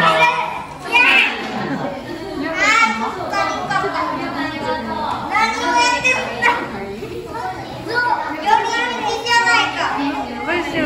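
Many children shout, chatter and squeal continuously at a kids event in Japan, a busy close crowd of young voices throughout.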